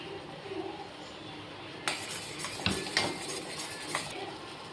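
A spoon mixes a thick homemade face pack of coffee powder in a small bowl, producing faint, close scraping with a few light clinks against the bowl over a quiet background.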